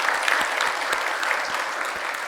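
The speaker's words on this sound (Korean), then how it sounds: "다시 한번 박수로 한번." A church congregation gives a short round of brisk, even applause, a close wash of many hands clapping with no pause.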